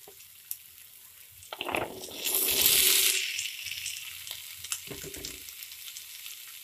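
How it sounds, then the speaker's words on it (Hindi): Boiled chickpeas drop into a hot pan of chole masala with a loud burst of sizzling that swells and slowly settles, followed by a few scraping stirs. "अभी हम इसमें उबला हुआ चना ऐड कर देंगे"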